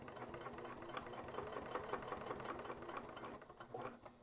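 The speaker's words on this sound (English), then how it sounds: "I'm basting around the edge at just about 1/8 of an inch, and I'm going to make sure I catch all the layers each time." Sewing machine basting around the edge of a layered Iron Man pack, about an eighth of an inch from the edge, running steadily with a fast rhythmic stitching clatter and motor hum throughout, close and alone.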